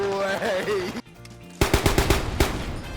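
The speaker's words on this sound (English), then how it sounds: "the Grenadier kit, which now also has access to a heavy grenade launcher. Wait, this shit can fire automatic?" Heavy grenade launcher in a video game firing on full automatic, a rapid series of loud punchy shots following a stretch of excited talk and a short pause.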